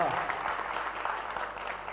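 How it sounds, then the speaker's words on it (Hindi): Audience at a mushaira poetry gathering clapping, a brief, moderately faint burst of many hands lasting about two seconds. "एक बार तालियां बजा दीजिए"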